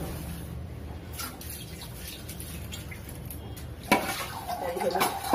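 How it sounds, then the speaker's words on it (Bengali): Dishes are washed in a home kitchen under a running tap, with steady splashing water, scattered clinks of utensils, and a louder gush of water toward the end. "তো বন্ধুরা চলো বাসন মেজে নিই"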